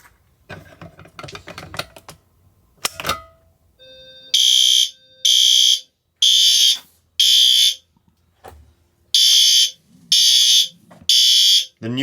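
A newly installed fire alarm horn strobe, set off from a pull station during system testing, blares in seven loud, evenly spaced pulses after some handling clatter, with no talk.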